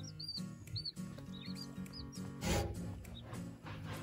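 Newly hatched mini meat-breed B66 chicks chirp in short, high, repeated peeps close by, over a low steady hum and some rustling.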